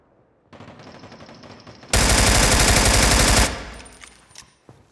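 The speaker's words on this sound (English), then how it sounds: "Hey, bullets coming." Gunfire in America's Army: Proving Grounds: a steady stretch of automatic fire, then a very loud, dense close-range burst that swells for over a second before fading, with scattered shots trailing off.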